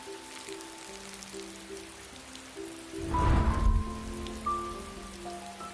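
Rain falls outside at night in a cartoon, a soft pattering wash that swells into a louder burst midway, under sustained gentle musical tones.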